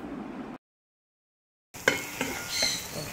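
Ginger, garlic and green chili frying in oil for Kerala-style chicken perattu, with a soft sizzle and stirring scrapes, then a brief silent gap followed by louder clinks of a spoon against the pan.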